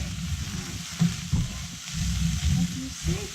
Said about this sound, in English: Just going to give that a little bit of a stir.